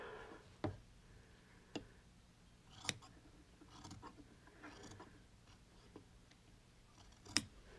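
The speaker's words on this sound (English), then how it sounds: "I'm gonna actually have to take some scissors" Several sharp, separate snips of scissors cutting fabric, spaced irregularly against a quiet room background.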